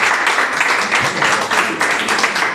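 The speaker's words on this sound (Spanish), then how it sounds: "dale un fuerte aplauso a Dios" A church congregation claps for God in loud, steady applause that runs the full length without a break, with a faint voice or two mixed into the crowd.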